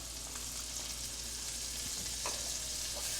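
Garlic goes into a frying pan with browning pork for marsala, producing a faint, steady sizzle with a few soft ticks and clinks, quiet and without voices.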